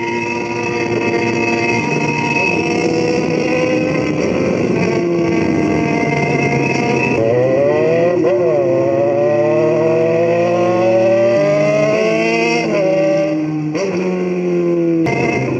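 Yamaha XJ6 motorcycle engine pulling hard under acceleration while being ridden, a loud continuous roar with pitch rising through the gears and brief drops at shifts, close and steady throughout.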